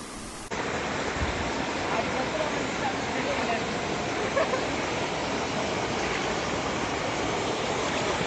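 The Nandi waterfall in Madanapalle roars as a dense, continuous rush of falling water, loud and close, holding steady from start to finish after a brief softer opening.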